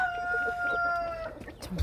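A rooster crows in a poultry pen, a long drawn-out call with clucking chickens around it, fairly close, ending in a louder rustle or bump.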